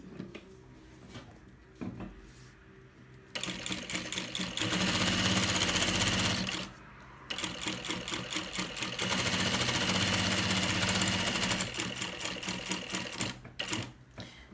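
A sewing machine stitches the seam of a baby bag in two long runs of fast, even mechanical clatter, separated by a short pause and framed by quieter handling sounds, close and clear.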